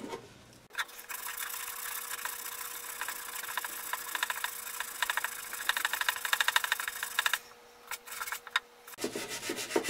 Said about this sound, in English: You need to sand this stuff.